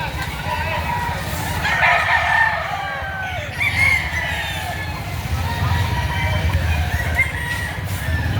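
Roosters crow and cluck at a chicken market in Lipa, Batangas, a busy, close, overlapping din with people talking underneath.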